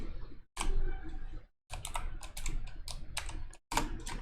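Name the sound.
typing on a computer keyboard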